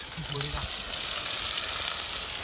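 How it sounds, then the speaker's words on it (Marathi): Onions frying in a little hot oil on a village wood-fired clay stove outdoors, a loud continuous sizzle throughout, with a brief faint voice near the start. "थोडंसं तेल बस झालं कांदा आपण परतून घेऊया"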